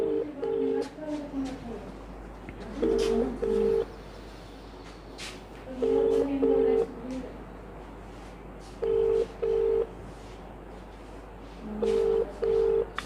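Outgoing phone call: a short burst of dialing tones, then a repeating double-beep ringback tone in four evenly spaced pairs of pulses, loud and clear over faint background hum, with no talking.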